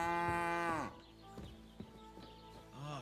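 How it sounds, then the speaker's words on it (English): A cow in the video game Kingdom Come: Deliverance 2 lets out a long, loud moo that falls off at the end, followed by quieter clunks and a second, shorter low moo. "I want to take a cow."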